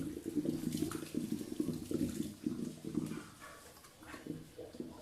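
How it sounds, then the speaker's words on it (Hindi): Water pours and drains from a pot of boiled vermicelli in a kitchen, a steady splashing, gurgling stream close by with uneven surges throughout. "अब हम इन्हें पानी रिमूव कर देंगे"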